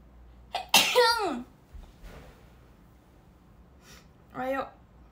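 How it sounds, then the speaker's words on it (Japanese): One sharp, close sneeze breaks a quiet room, followed by silence and then a brief voice a few seconds later. "くしゃみでそう、ずっと"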